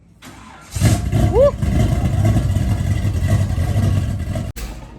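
A heavy-cammed engine in a Box Chevy cranks, catches and revs up into a loud, lumpy rumble inside a garage, holding for several seconds before cutting off abruptly. Someone whoops over the engine.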